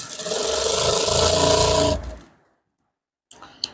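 A sewing machine runs fast and steadily while stitching an Ankara top, loud and close for about two seconds, then stops abruptly into silence, followed by a couple of faint clicks.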